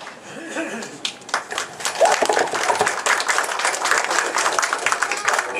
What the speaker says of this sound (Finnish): avaaja sai heti hienot aplodit